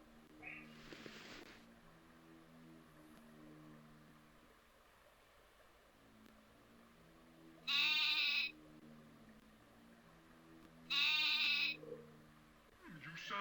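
Two short bleats from a sheep in the MS-DOS game Wishbone and the Amazing Odyssey, each about a second long and set well apart over a low, steady background hum.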